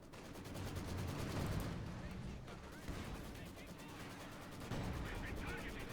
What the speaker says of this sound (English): Field bombardment rather missing the mark.